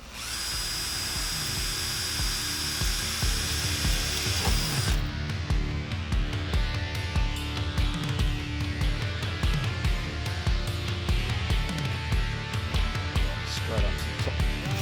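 Power drill boring into a plastic jerry can, a steady whirring drone that runs loud and continuous throughout, with a sharper high-pitched grinding tone in the opening seconds before settling into a rougher, churning buzz.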